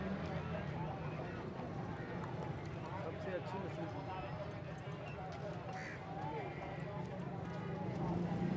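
A horse's hooves clip-clopping while being ridden, a fast steady patter of beats under constant background noise, with voices faintly present.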